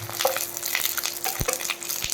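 Chhanar paturi, chhena parcels wrapped in banana leaf, sizzle and crackle as they shallow-fry in a pan, with a few soft knocks as they are turned.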